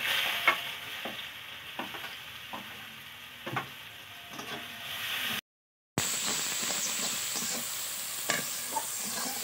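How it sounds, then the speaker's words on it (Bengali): Sliced onions fry in hot oil with nigella seeds, dried red chillies and a green chilli for a koi fish curry, a steady close sizzle punctuated by light stirring taps, briefly cut to silence midway before continuing. "পেঁয়াজটা হালকা একটু ভাজা হয়ে গেছে,"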